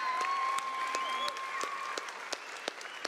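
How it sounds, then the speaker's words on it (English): A small audience gives a round of applause at a talk, scattered individual claps standing out over a thinner, quieter patter, with a voice and a faint tone audible underneath. "everybody give Scott a round of applause."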